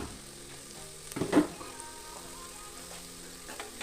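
Onions sautéing with spices for a chicken liver curry, a soft steady sizzle in a pan with one brief louder stir or clatter partway through, otherwise quiet and alone.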